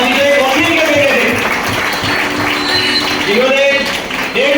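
An audience at a motivational leadership seminar claps loudly in dense, sustained applause, while a voice carries on over the noise.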